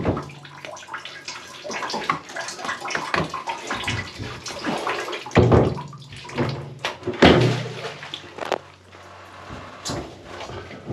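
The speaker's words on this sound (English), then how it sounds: "I hear it draining" Water drains and gurgles through a clogged apartment air-conditioner drain line being cleared, with splashy, uneven bursts and several louder surges heard up close.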